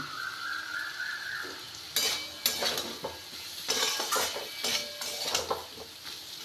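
Spice masala stir-fried in oil for Bengali-style fig curry: a soft sizzle, then repeated scraping and clinking strokes of a spoon against the pan, close and uneven.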